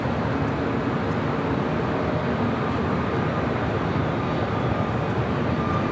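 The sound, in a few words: jet aircraft at LAX airport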